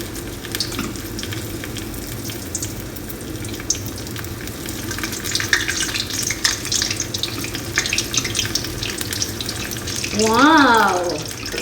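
Cheese and hotdog fry in a pan with a continuous sizzle and occasional clatter, heard close up, and a short rising squeal or voice-like sound breaks in near the end.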